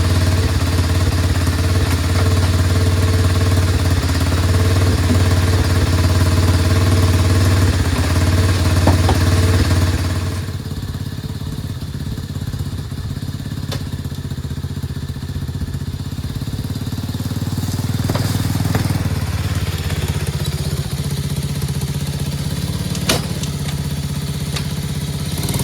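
A Chinese 125cc ATV quad engine runs steadily and loudly up close, a buzzing mid-pitched idle that drops slightly in tone partway through and then carries on with light mechanical clatter.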